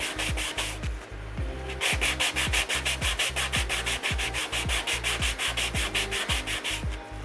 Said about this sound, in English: it takes a few days just to go through the sanding